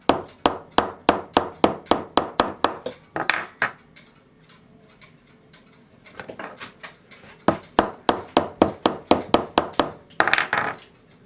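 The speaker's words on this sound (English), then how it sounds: "we're going to try the old-fashioned way of just hammering the high side." Rapid metal hammer taps on a part from a 1960s oompah band cuckoo clock, coming in two dense bursts of sharp, ringing strikes separated by a quiet pause, close and loud.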